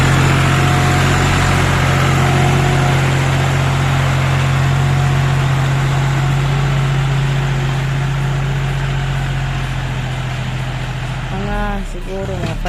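A tractor engine runs nearby with a steady, loud droning hum that holds for most of the stretch before shifting and dropping off near the end.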